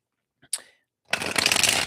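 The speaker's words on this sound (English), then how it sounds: "why don't I shuffle?" Tarot cards being shuffled at a live reading: a soft riffle-like flick, a brief pause, then a steady, continuous papery shuffling that runs close and fairly loud to the end, with no talking over it.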